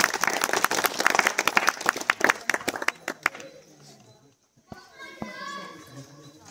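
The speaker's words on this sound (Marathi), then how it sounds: "टाळ्या वाजवायच्या सर्वांनी." Lively clapping from a group mixed with children's chatter at a certificate distribution, then the applause fades out and a few voices carry on quietly.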